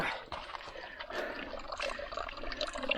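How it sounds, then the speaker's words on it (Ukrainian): A small, weak spring stream trickles and burbles along, a faint, continuous watery babble with light splashes, heard close up with no talking. "Слабенький потічок біжить"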